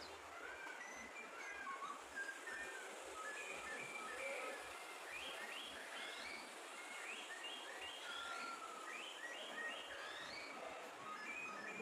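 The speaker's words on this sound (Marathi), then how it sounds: "प्रत्येक ठिकाणी जो प्राणी आहे किंवा पक्षी आहे त्या त्या ठिकाणी त्या त्या पक्ष्याचा किंवा प्राण्याचा आवाज दिलेला आहे" Recorded bird calls played at an exhibit in a bird theme park in Bhilar near Panchgani, with repeated whistled chirps and warbling phrases over a steady background hiss, moderately distant, with no voices.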